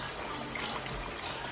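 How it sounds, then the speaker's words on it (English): A little water poured into a pot of Nigerian soup, a steady soft splashing trickle that runs continuously and fairly quietly, with no talking. "I think I'll add just a little tiny bit of water."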